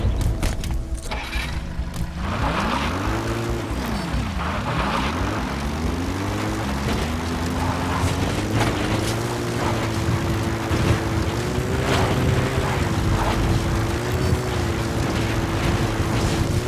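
A support helicopter arrives in the video game Metal Gear Solid 5, its rotor thrumming steadily and swooping in pitch as it draws near, a sustained mechanical drone against light game background sounds, with no talking.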